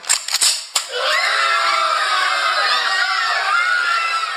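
Gunfire in the Hidden Harbor Mysteries video game: a few sharp, close shots crack in quick succession, followed by a sustained bright wash of crowd-like noise and shouting.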